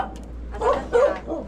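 A dog barks three times in quick succession at close range, short, moderately loud woofs over a quiet outdoor background near a house.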